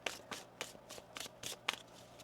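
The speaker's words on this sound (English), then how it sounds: "One more shuffle here." A deck of tarot cards being shuffled by hand during a card reading, with several quick riffling bursts repeating in a steady rhythm, close and fairly quiet.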